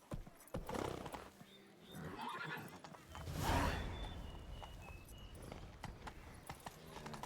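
Horse in Witcher III: Wild Hunt, Blood and Wine, gives a loud whinny in the middle while rapid hoofbeats clip-clop steadily around it, with outdoor game ambience throughout.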